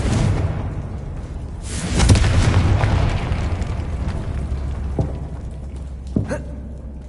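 A Confringo fire spell in Hogwarts Legacy bursts into a booming explosion with a rumbling tail, followed later by a few sharper pops and thuds against a steady background.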